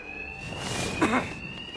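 A continuous electronic alarm rings inside the video game Batman Arkham Knight during a robbery by Two-Face's thugs, a steady high tone running the whole time under muffled crowd noise and a brief nearby thump.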